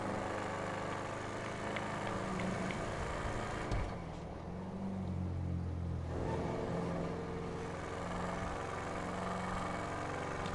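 A loud car with an upgraded exhaust, drag radials and an otherwise stock engine idles with a steady, throaty rumble that dips briefly and returns, alone and close.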